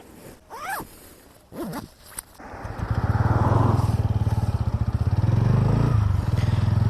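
A motorcycle engine starts up after a few quick zipper-like scrapes and then runs with a steady, close, pulsing putter for several seconds as the rider sets off.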